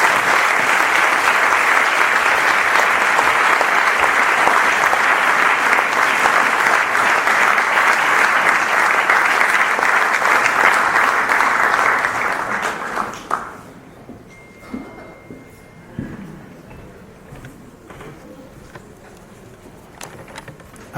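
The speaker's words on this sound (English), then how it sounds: "please give a big round of applause to Dr." A large audience at a medical association's fall meeting in San Francisco greets a guest speaker with loud, sustained applause that fades out, followed by quiet room noise and a few scattered thumps.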